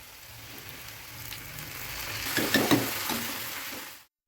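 Soaked sago (tapioca pearls) frying in a pan after potatoes and cauliflower, giving a steady close sizzle with a few sharper crackles and stirring scrapes before it cuts off.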